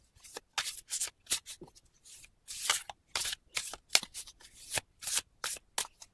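Tarot cards being shuffled by hand, a quick run of riffling, flapping bursts separated by short pauses, close and fairly loud, with no speech.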